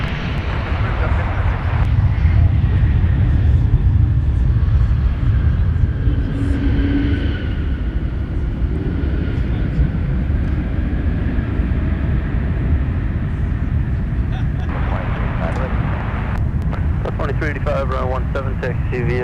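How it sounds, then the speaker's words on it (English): An Airbus A220 arrives at Minneapolis airport, its jet engines making a loud, steady broadband roar that holds throughout, with crackling radio chatter breaking in near the end. "So we'll take another look at our arrival that just came in. So the Airbus A220."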